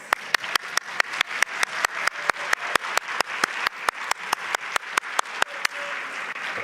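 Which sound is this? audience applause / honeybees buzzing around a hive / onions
audience applause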